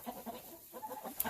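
A young hen clucks softly in a series of short, quiet calls spaced close together, with faint farmyard background and no talk.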